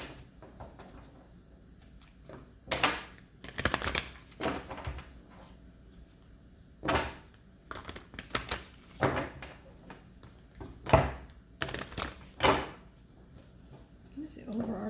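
Tarot cards being shuffled during a reading, producing irregular riffling and rustling bursts that come and go, quiet and close, between pauses.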